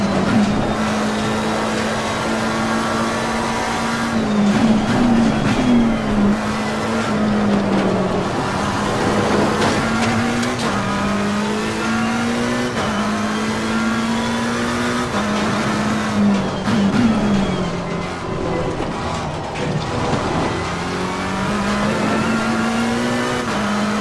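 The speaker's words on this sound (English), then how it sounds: "let's just enjoy a little bit the engine sound" A video game race car engine in Assetto Corsa Competizione drones loudly and continuously, its pitch rising and falling through repeated gear shifts and revs, with faint tire squeal.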